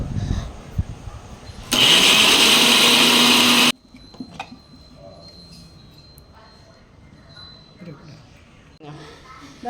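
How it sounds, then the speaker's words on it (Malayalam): A kitchen mixer grinder whirs loudly for about two seconds while blending chopped jackfruit into a paste, a dense steady roar that stops abruptly, with quieter kitchen sounds before and after. "അത് മിക്സിയുടെ ജാറിലിട്ട് നമ്മൾ അടിച്ചെടുക്കണം. എന്നിട്ട് നല്ല പേസ്റ്റ് ആക്കി എടുക്കണം."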